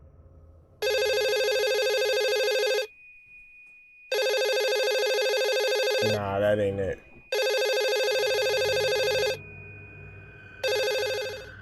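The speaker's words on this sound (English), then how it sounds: "a phone that's not connected to electricity begins to ring" A telephone that is not connected to electricity rings in long, loud repeated bursts, with a brief spoken voice cutting in between two of the rings.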